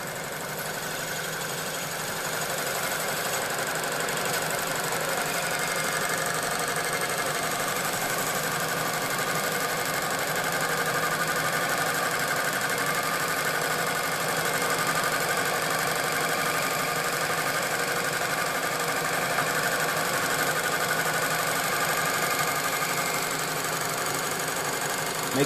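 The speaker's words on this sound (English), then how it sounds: "Makes a nice true bore through there." A boring machine cutting a babbitt connecting rod bore, giving a steady, continuous mechanical hum and whine that holds at an even level for the whole stretch, without talking.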